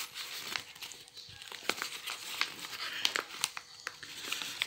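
A paper envelope is handled and turned over, giving repeated crisp crinkles and rustles at close range, with faint background voice.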